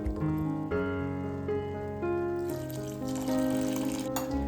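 Water pours into a pan of coconut paste and prawns, a soft, steady trickling stream heard quietly and alone over several seconds.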